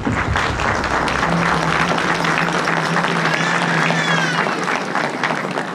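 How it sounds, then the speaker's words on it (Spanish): Applause from a crowd gathered for a religious procession honoring the Virgen del Carmen, a steady dense clapping that fills the whole stretch with some cheering mixed in. "Un fuerte aplauso para Él."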